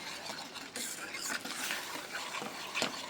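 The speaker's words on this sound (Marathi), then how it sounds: "दही त्यामध्ये चांगले घोटून फिरवा, फाटू देऊ नका." Yogurt being stirred into a cauliflower masala in a pan: soft, repeated scraping and stirring strokes with a faint sizzle, quiet and close.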